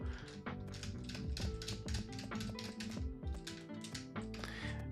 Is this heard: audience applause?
no